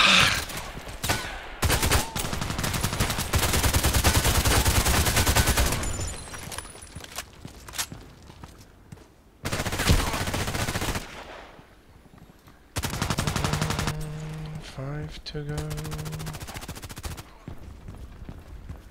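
Bursts of rapid automatic gunfire in the sniper video game ADXsniper, loud and dense, broken by short pauses and a lone sharp shot, with no talking.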